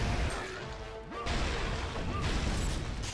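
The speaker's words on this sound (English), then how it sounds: "Kratos being smashed to the floor" Kratos being slammed to the floor in a hack-and-slash video game, heavy crashing impacts and whooshes, with a short swell near the start and another about a second later.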